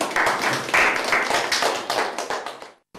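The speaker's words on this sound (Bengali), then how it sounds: "আমরা খ দলকে সবাই হাততালি দিয়ে ধন্যবাদ জানাই" A group of children applauding at a quiz contest, a dense burst of close, loud clapping lasting about three seconds before stopping abruptly.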